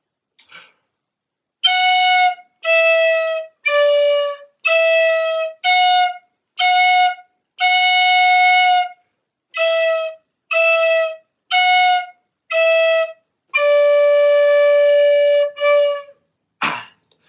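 A tin whistle plays a short melody of about a dozen clear, bright notes, some held longer, in a steady phrase with brief gaps between notes.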